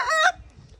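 An Aseel fighting rooster lets out a brief, loud, close crow that cuts off abruptly, leaving quiet low rumble behind.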